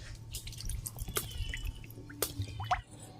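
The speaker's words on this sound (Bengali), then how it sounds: "কড়াই দিয়ে দেবো সাদা তেল।" White cooking oil poured into a wok on a stove gives soft, scattered drips and small splashes, faint against a steady low hum, with no talking.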